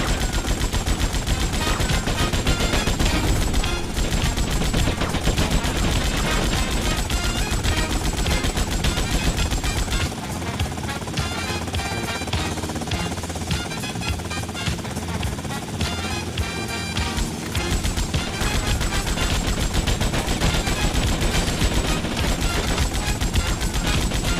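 Sustained gunfire in the video game Grand Theft Auto Vice City, loud rapid automatic bursts layered over a dense game soundscape, continuing without pause for the whole stretch, briefly thinning midway.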